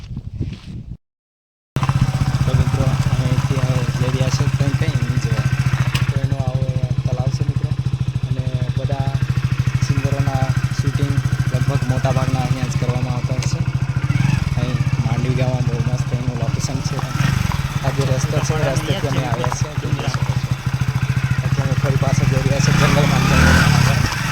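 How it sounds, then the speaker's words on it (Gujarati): A steady motorcycle engine drones throughout at close range on a forest route near Pavagadh, with a person talking over it and wind buffeting the microphone. "આ છે અમારું બાઇક આવી ગયા છે"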